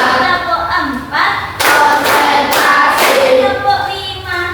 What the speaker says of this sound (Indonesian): Sebelum ke materi, kita akan tepuk dulu.